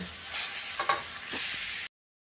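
Pork fried rice with egg and vegetables stir-fried in a pan, giving a close, steady sizzle broken by a few spatula scrapes before cutting off abruptly.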